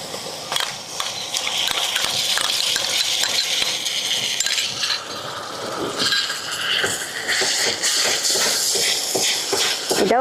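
Green chili, ginger and garlic paste frying with onions in a pan for a raw jackfruit curry, giving a loud, steady crackling sizzle with scraping and rustling of stirring throughout.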